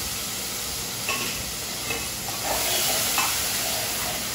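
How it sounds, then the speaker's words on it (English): Chopped black-eyed beans and other pieces sizzle steadily in a hot pan, a continuous close frying hiss with a few brief stirring scrapes and no voices. "See, I chop it into small pieces just like this. So it's cooking over here."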